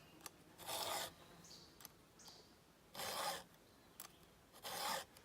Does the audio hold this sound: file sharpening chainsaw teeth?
yes